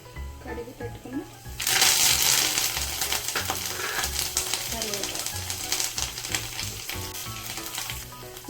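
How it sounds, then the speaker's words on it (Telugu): Tempering sizzles loudly in a pan with a pinch of asafoetida, bursting in at about two seconds and crackling steadily to the end over dull background thumps. "తాలింపు కూడా అయిపోయింది."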